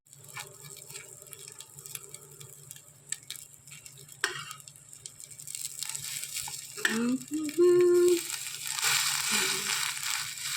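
A roll frying in oil, a steady sizzle with some stirring and scraping, louder toward the end, with faint voices in the background.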